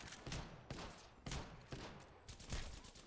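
Rapid bursts of gunfire in a first-person shooter match, several loud volleys of shots arriving in quick succession with brief gaps between them and no talk over them.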